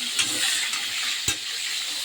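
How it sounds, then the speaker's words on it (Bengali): Pointed gourd (potol) frying in hot oil, a steady soft sizzle close by with a few light clinks and one sharp knock partway through. "পটলটা ভেজে নিচ্ছি"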